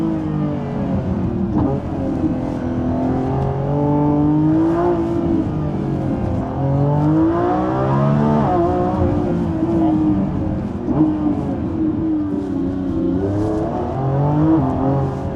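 A Lamborghini Revuelto accelerates hard out of a corner, its engine revving up and down in rising and falling sweeps, loud and close throughout with no voices over it.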